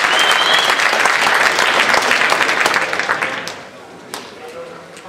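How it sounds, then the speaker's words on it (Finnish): Loud crowd applause fills the hall after a women's amateur boxing bout in the 48 kg class, dense clapping and cheering for several seconds before fading into lighter scattered claps. "lienee paikalla raikuvat aplodit molemmille tytöille"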